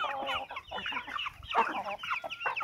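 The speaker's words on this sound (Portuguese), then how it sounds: "Vou mostrar para vocês a galinha aqui," Broody white hen clucking inside a henhouse near a rooster, continuous close soft clucks and murmurs from the chickens with no talking.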